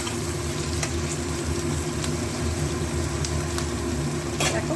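Onions frying in a pan for masoor dal khichuri, giving a dense, even sizzle that runs without a break, close and fairly loud, with a few light scrapes of stirring.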